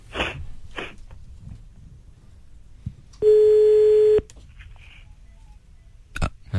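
Mobile phone call being placed, with a single long steady electronic dialing tone of about one second in the middle, surrounded by brief breathy noises and quiet room sounds.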